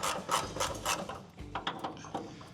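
Bonnet fasteners being loosened on a Ford Fairmont in a garage, a close run of rasping, ratcheting scrapes and metallic rubs in uneven bursts with no talk.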